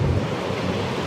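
Sea waves break and wash continuously along a shore on a calm spring morning, a steady broadband surf roar with some wind buffeting the microphone and no voices.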